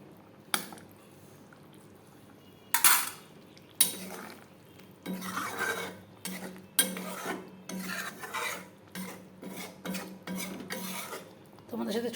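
A paneer dish finished with a little ghee is stirred in a pan, with a clink of utensils at the start, then repeated scraping, sizzling stirring strokes in uneven bursts with short pauses between, close and without talking.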